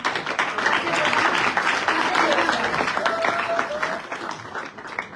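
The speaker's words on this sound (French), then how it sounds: "Acclamez pour ceux qui donnent la dîme" A church congregation applauds tithe givers during a Sunday service, with steady sustained clapping and crowd noise over the full stretch, mixed with voices and a sung or called tone partway through.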